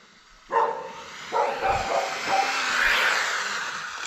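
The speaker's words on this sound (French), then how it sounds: "On a le chien qui va nous faire chier mais bon." A dog barks a few times mid-distance, short sharp yaps over a steady whirring drone of a small MJX Hypergo 14303 RC car on a rough outdoor run.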